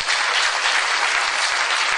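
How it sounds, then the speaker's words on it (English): A town hall meeting audience on health care reform claps steadily in dense, sustained applause that fills the whole stretch without a break, with no speech over it. "If you don't clap, I can make more points."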